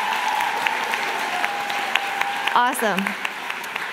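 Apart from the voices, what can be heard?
audience applause for Vesti and her team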